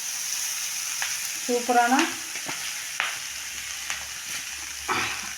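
Flattened rice (aval) being tempered in a pan, with soft sizzling, clinking and scraping of stirring in short bursts, and a brief voice partway through.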